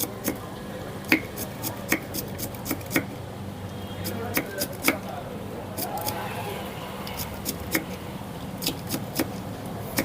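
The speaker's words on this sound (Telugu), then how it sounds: "ఇప్పుడు వీటిని కట్ చేస్తాను చూడండి" Knife chopping vegetables for hotel-style upma, a run of sharp, fairly evenly spaced taps on a cutting board, close and moderately loud over a steady low kitchen hum.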